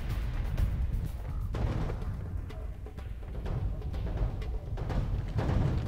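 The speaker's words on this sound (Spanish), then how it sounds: "Se escucharon los disparos muy cerca." Gunfire in a Mexican action film, dense and continuous with sharp shots cracking over a low rumbling roar, loud and close throughout.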